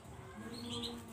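A canary chirps in a breeding cage setup, with short thin tweets rising over a steady low background hum for about a second, close and moderately quiet.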